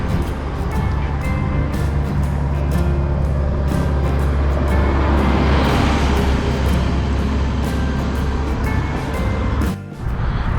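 A car drives along the A61 road near Tupton in North East Derbyshire, with a steady loud engine and road rumble throughout, tire noise swelling midway and a brief dip near the end.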